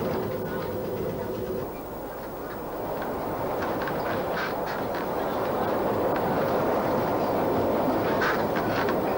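A Glasgow Underground train rumbles past in St Enoch station, a broad steady roar with faint rhythmic clatter building toward the end, heard from nearby without speech.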